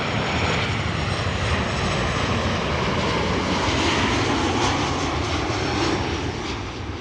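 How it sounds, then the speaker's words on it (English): A KLM airliner back from Glasgow roars steadily overhead, loud and close, its broad engine noise holding throughout and fading slightly at the end. "That was KLM Flight 938 returning from Glasgow"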